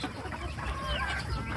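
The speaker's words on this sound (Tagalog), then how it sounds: "yung aming mga pabo. Ayan, ganyan sila tuwing hapon at umaga." Farm turkeys call in a short burst of clucking and gobbling, several birds close by against a low steady background, with no one speaking.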